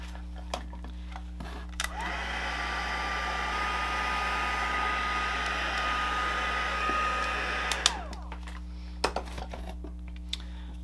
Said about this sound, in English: We're going to heat emboss them with clear embossing powder.